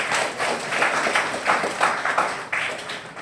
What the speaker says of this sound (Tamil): எல்லாம் கைத்தட்டி நன்றி சொல்லுங்க பார்க்கணும்.